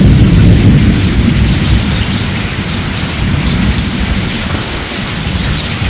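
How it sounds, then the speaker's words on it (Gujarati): A village thunderstorm with wind and rain: loud, continuous rain and gusting wind noise with a low rumble underneath, steady throughout with no voices. "તોફાન ગાજ વીજ ફેરો વાવડો"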